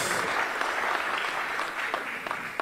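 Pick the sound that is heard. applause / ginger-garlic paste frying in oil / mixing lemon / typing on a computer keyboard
applause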